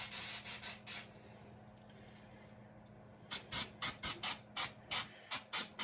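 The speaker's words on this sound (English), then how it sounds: "I'm just gonna spray this nice and light until I get the coverage that I need." Black paint is sprayed onto a Jordan 3 shoe midsole in light, even coats: a run of short hissing bursts from a spray can, a quiet stretch, then a steady sequence of about ten brief close puffs.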